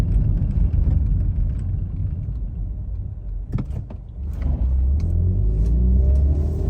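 A Toyota Echo with a 1.5-litre engine idling rough with a misfire, giving a close, steady low rumble that wavers unevenly and rises slightly near the end, with a few brief clicks in the middle.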